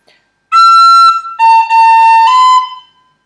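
Tin whistle playing the first section of the Irish tune Scatter the Mud, a short close phrase of a few clear sustained notes, played alone.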